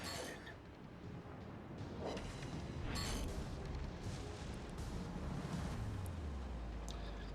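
In a naval warship video game, 15-inch guns fire as a few dull, distant booms over a faint, continuous wash of ocean and wind noise.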